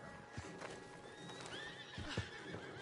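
Horses in a video game neigh and whinny several times while hooves clip-clop intermittently, a fairly quiet, busy scene with no talking.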